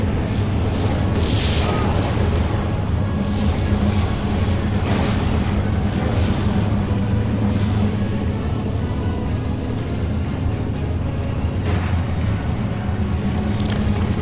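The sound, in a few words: off-map artillery strike in video game Steel Division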